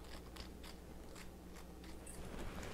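Red bell pepper seeds being shaken out over a kitchen counter make a series of soft, rustly rattling bursts in a quick irregular rhythm, faint and close against low background hum.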